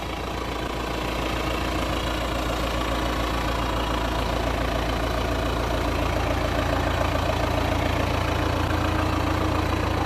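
Diesel engine of a 2007 Claas Ares tractor idling on a farm, a steady, loud low rumble with a fast mechanical knock running evenly and unchanged throughout, with no voices.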